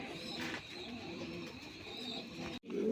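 Local domestic pigeons coo softly at a pigeon sale, the low murmuring calls sitting within a steady, noisy background that briefly cuts out near the end.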